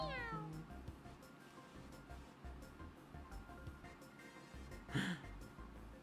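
Cat Peach, a character in the Mario Kart video game, gives a short, high, falling meow at the start, heard quietly over steady game music with another small cry later.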